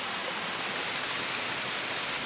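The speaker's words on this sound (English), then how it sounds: "As the calcium-rich water flows over the falls, it plates out on the surface" Calcium-rich water pours steadily over the SAI Waterfall near Luang Prabang, Laos, a constant broadband rush with no pauses and no voices.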